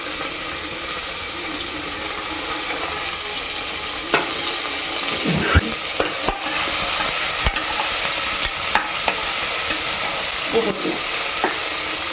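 Onions sizzle steadily in a hot pan, close and constant, with occasional clinks and scrapes of a spoon stirring.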